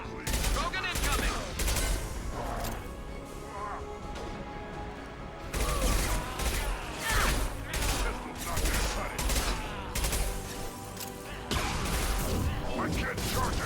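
Dense, continuous gunfire and explosions in the video game Mass Effect 2 during a firefight with charging krogan, loud and unbroken throughout with brief dips, voices shouting over the battle.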